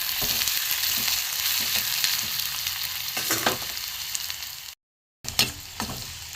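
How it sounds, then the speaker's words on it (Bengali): Chopped garlic and onion fry in a pan for an egg-stuffed paratha filling, giving a steady close sizzle with occasional stirring scrapes and a brief dropout to silence near the end. "একটু ভালো করে ভেজে নেবো রসুন আর পেঁয়াজ"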